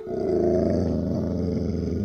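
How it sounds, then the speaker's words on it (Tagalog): A wild beast lets out a deep, rumbling growl, close and sustained for about two seconds without a break, with no speech over it. "Lalo akong nagtaka nang marinig ang pamilyar na angil na iyon na tila mula sa isang mabangis na hayop."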